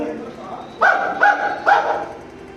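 A person imitates a dog barking with three sharp, evenly spaced woof sounds, loud and close, performed during a classroom teaching-aid workshop presentation.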